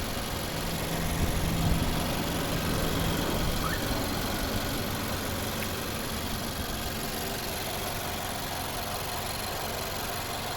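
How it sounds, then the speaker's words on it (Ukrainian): A 2012 Nissan Juke 4x4 with a 1.6-litre 190 hp turbo engine idling, a steady, low hum on without pause, a constant mechanical drone with no voices over it. "Ось робота двигуна."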